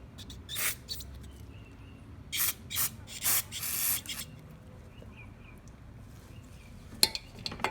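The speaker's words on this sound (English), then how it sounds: "You want to spray this jet out, assembly out." Several short hissing bursts of carburetor cleaner spray, close by, cleaning a jet on a Toro Personal Pace mower carburetor, with brief pauses between them and a faint clink near the end.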